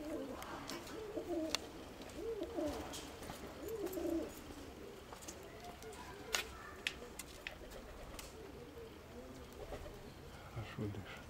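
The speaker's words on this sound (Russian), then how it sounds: "Голубей много, пусть." Pigeons coo repeatedly in a loft on a warm day, soft rolling calls coming and going at moderate distance over a steady outdoor background, with occasional sharp clicks and wing or perch noises.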